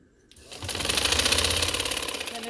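A sewing machine stitching a ladies' trouser starts up after a brief quiet and runs in a fast, steady, rattling rhythm, close and loud.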